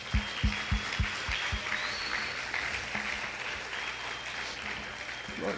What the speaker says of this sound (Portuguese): Aplaudir o Senhor, irmãos.